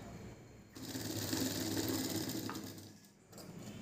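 Sewing machine stitching a seam in a tailoring class, a fast, even mechanical rattle running for a couple of seconds, quiet and close, starting and stopping abruptly.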